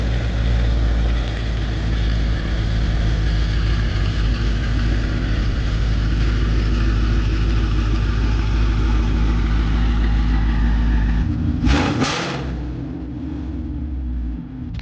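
A 2017 Mustang GT with its hood off drives along, the engine a steady low rumble with road noise from inside the car, a brief sharp burst near the end, then a softer hum.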